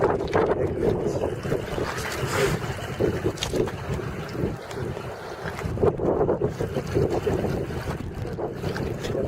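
Strong winter wind buffeting the microphone on a beach in Saint John, New Brunswick during a December snow storm, a loud continuous roar with gusting surges and no talk.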